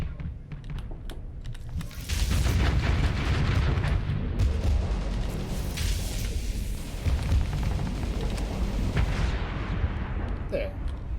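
Dense stream of ship weapons firing in a Starsector space battle, rapid rattling shots and booming impacts layered continuously, loud and sustained after a quieter opening, with faint talk beneath.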